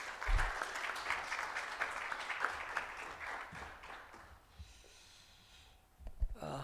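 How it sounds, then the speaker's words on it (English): Audience applause at a rural development conference, dense clapping for several seconds that thins and fades out, followed by a brief close rustle or microphone bump. "Let's give him a big round of applause."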